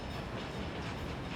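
A coal freight train of hopper cars rolls past in the game Workers and Resources, making a steady rumbling clatter with faint rhythmic clicks, fairly quiet and continuous.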